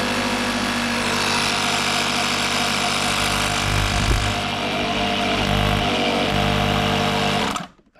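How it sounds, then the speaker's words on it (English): A 12-volt air compressor rewired onto its own plug runs steadily while pumping up a tire, a continuous buzzing motor drone with a rattling pulse that holds level for several seconds, then cuts off abruptly near the end. "I rewired the air compressor, and now it's on its own plug for 12 volts"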